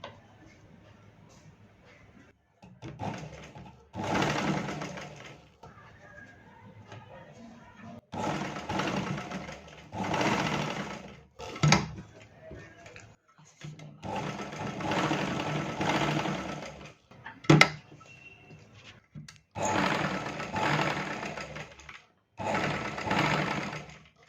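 A sewing machine stitches a blouse in repeated bursts of rapid mechanical whirring and ticking, close up, separated by pauses and brief clicks.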